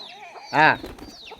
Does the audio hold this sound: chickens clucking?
yes